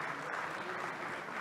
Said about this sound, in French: Rémi, on peut l'applaudir.